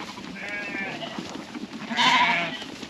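Scotch Blackface sheep and small easy care cross lambs bleat up close, with one wavering call followed after a short pause by a louder second bleat over faint outdoor background.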